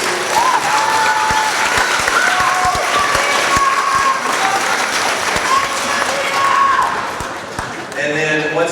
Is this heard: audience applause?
yes